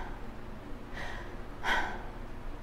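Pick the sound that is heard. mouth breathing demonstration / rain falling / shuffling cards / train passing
mouth breathing demonstration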